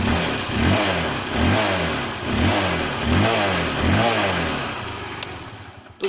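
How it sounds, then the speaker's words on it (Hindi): A motorcycle started cold is revved hard again and again, producing a loud, near engine roar that rises and falls in regular bursts of throttle about every second, then settles and cuts off. "मतलब स्टार्ट किया और पूरा एक्सीलेटर दे रहा है स्टार्टिंग से ही।"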